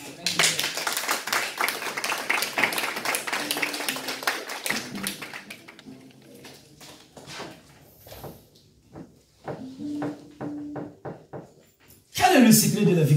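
Congregation applauding during a church service: dense, sustained clapping with a voice carrying over it, thinning out midway before a loud burst of applause returns at the end.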